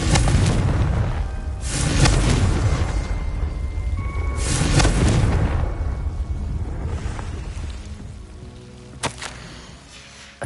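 A Confringo fire spell cast in Hogwarts Legacy on PS5 sets off a series of deep booming explosions, each followed by a rumbling roll, ending with a sharp crack near the close.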